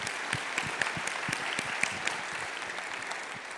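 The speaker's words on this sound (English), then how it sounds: "Give them both a round of applause." A conference audience at a partnership event gives a round of applause, dense steady clapping from many hands filling the room for several seconds without talk.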